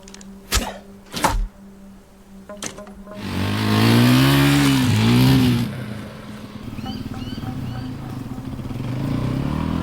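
A dirt bike engine revs up loudly for a couple of seconds after a few sharp knocks, then settles into a lower, steady running drone.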